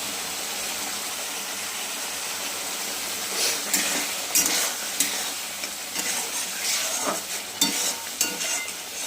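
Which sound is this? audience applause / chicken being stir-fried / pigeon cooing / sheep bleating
chicken being stir-fried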